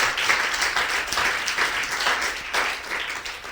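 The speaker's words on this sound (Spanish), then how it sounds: "give applause to Jesus," A church congregation applauds for Jesus during a Spanish-English sermon, steady dense clapping filling the room for several seconds with no break.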